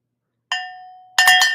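A single handbell rings at a Christmas Eve trivia party, one clear ringing strike that decays over about half a second, then a second, brighter and noisier clang follows, loud and close.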